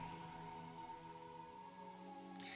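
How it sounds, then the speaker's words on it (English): Rain falls in a steady, soft patter on a surface, with a low, even hum of wind and tone beneath, quiet and unbroken. "All that remained was the sound of the wind and the rain"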